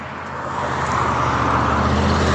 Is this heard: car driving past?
yes